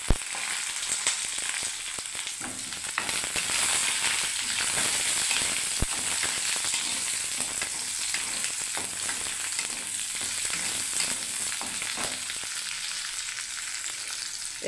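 Eggplant pieces sizzle loudly in hot oil in a pan that has just fried bitter gourd for a mixed vegetable dish, a steady close hiss with occasional scrapes and clatters of stirring throughout.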